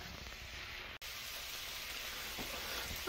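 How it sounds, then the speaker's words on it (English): Peppers and onions frying in a pan for a cheesy keto fajita casserole, a steady close sizzle with a brief break near the start and no talk. "I'll cook the peppers and onions until they're all cooked up."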